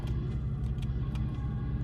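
A car drives through traffic in a video game, giving a steady low rumble of engine and road noise at moderate level, with no talking.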